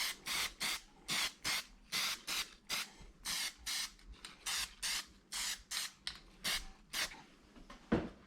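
Spray gun bursts in a paint booth while coating modified 1949–52 Chevy four-door rear seat frames: about sixteen short, even hissing blasts with brief gaps between, close and steady, and no talking.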